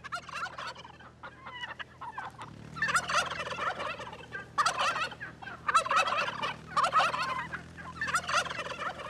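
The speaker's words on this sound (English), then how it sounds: "The domestic turkey gobbles all year long," Domestic turkeys gobbling in repeated loud, rattling bursts, several overlapping calls close by over a low background hum, continuing through most of the stretch.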